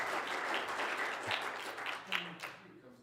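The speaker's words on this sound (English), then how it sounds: "please give me a round of applause" A lecture audience gives brief, lively applause to welcome a speaker, the clapping rising and thinning over a few seconds, with a voice talking through it.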